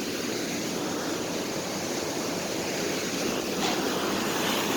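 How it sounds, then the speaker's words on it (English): A creek flows over rocks in a city park gulf, a steady, dense rushing hiss of water heard close and constant without talk. "There's the creek."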